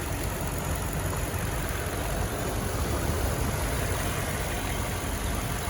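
A 2020 Toyota Tundra 4x4 pickup with a 5.7 liter V8 idling steadily, a constant even engine drone with no revving, close and unchanging throughout.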